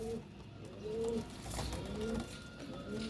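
Soft, low pigeon coos at a pigeon loft in Faisalabad, where white-eyed female pigeons are kept; a few repeated calls sound close over a steady background hum, with no talking.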